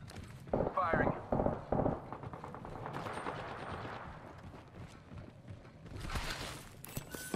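Gunfire in Apex Legends: bursts of automatic weapon fire crack in quick clusters early on, then a steadier stream of shots and a final loud flurry, with a voice talking over the action.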